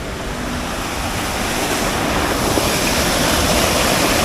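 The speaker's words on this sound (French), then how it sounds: "là derrière il y a la grande cascade" Large waterfall near the Glacier Blanc, a steady, powerful roar of heavy-flowing water close by, continuous and dense throughout with no voices.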